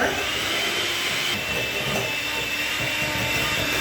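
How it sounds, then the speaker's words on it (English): An electric mixer beats butter and caster sugar for orange and chocolate chip cookies. It gives a loud, steady, high-pitched motor whine that holds without a break throughout. "So we're going to beat the butter and sugar."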